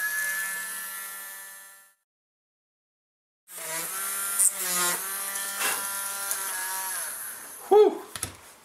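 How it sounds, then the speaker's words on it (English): A small drill whines in bursts drilling holes in a circuit board, pausing briefly between holes, its high-pitched buzz rising and falling as it bites into the board. "time to drill all the rest of the holes,"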